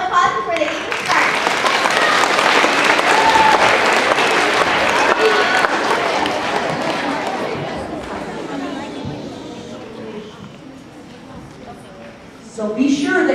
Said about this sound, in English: So let's give them a round of applause before they even start.